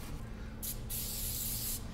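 Short aerosol spray bursts applied onto white screen printing ink on a large palette, two close hissing blasts, the second longer, over low room hum.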